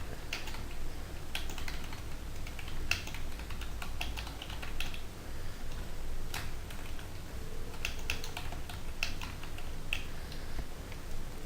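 Steady run of key clicks from someone typing text on a computer keyboard, close and fairly quiet, with irregular bursts and brief pauses throughout and no voices.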